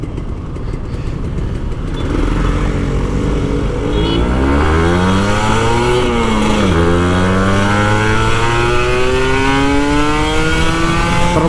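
An older Kawasaki Ninja RR 150 two-stroke motorcycle with an open exhaust revs loud and close, its engine pitch sweeping up and down through several gear-like climbs before settling into a high steady whine.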